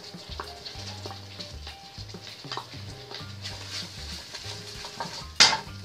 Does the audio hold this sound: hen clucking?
no